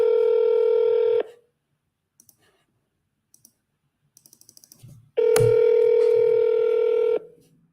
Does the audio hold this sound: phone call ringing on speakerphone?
yes